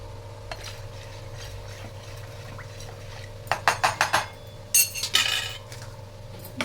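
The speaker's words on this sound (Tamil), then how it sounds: "போட்டு ஒரு கிளறி விட்டுருவோம்" A spoon stirs and clinks against a cooking pot as coriander leaves are mixed into rasam, with a run of sharp metallic scrapes and taps in the second half over a steady low kitchen hum.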